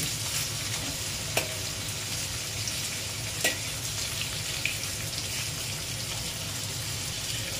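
Pork belly slices searing in a hot pan give a steady, close sizzle and crackle, with a couple of brief utensil clicks and no talking.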